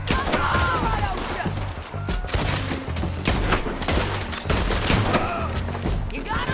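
Red Dead Redemption 2 gunfire: a dense, steady fusillade of rifle and pistol shots cracks repeatedly at close range throughout, with shouting voices now and then beneath the shooting.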